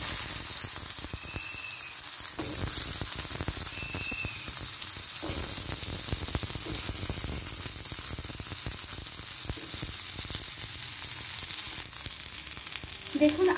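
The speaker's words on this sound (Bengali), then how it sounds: "এইবার পটল আর কুমড়োটা আমি ভেজে নিচ্ছি।" Pointed gourd and pumpkin pieces fry in hot oil with a pinch of turmeric in a pan, giving a steady, close sizzle that runs the whole time, with faint scraping stirs now and then and no talk.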